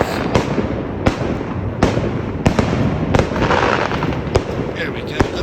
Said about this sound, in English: Let's have a look at these fireworks, shall we?